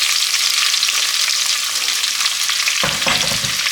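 Three large cut onions fry in coconut oil for a mutton curry, giving a loud, steady, close sizzle, with a scraping stir near the end and no speech.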